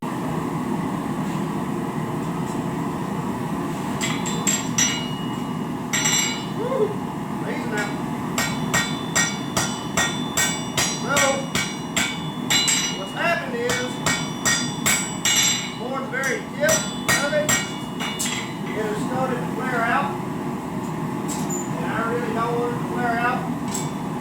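A blacksmith hammers a spring steel chopper blade on an anvil, stretching it out: sharp ringing metallic strikes in irregular bursts and quick runs, close and loud over a steady forge roar, no talk.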